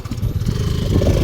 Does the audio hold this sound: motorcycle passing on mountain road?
yes